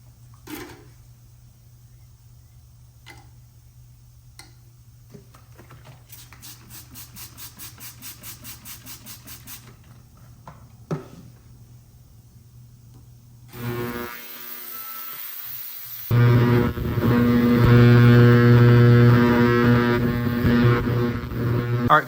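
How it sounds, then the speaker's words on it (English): An ultrasonic parts cleaner, loaded with parts from a 1987 Kawasaki Bayou 185 ATV, starts up and runs with a loud steady electric hum and high whine. It follows a stretch of quieter tonal buzzing and a few small clicks. "while we're waiting on those parts to get cleaned by the ultrasonic cleaner"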